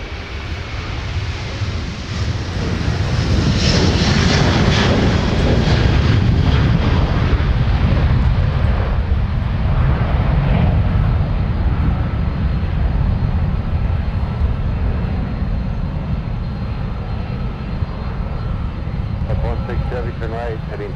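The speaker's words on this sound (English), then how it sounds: "152 Heavy ascending into the air for Paris with the A330-300" A Delta Airbus A330-300 with Pratt & Whitney engines takes off from Minneapolis–Saint Paul, a loud, rumbling jet roar that builds within seconds and stays powerful throughout, with radio chatter and a voice heard over the engines.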